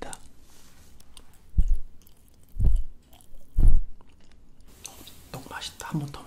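Chewy, rubbery Korean rice cake (tteok) being chewed up close in a quiet ASMR setting, three distinct squishy bites spaced about a second apart, followed by soft whispering.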